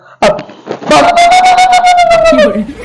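A dog whines loudly and close up in a long, wavering, high-pitched whimper that turns into a howl-like cry, after a couple of short yelps.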